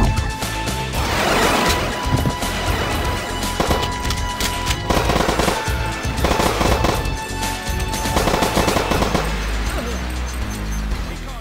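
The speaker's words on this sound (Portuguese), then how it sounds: "Esse aqui recarrega automaticamente essas duas submetralhadoras." Dual submachine guns in the video game Doom fire in rapid, loud bursts, repeating in several clusters with brief pauses between.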